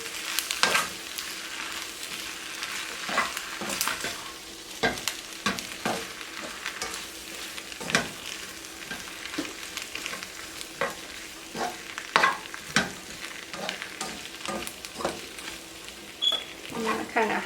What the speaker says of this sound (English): Mix it up really good.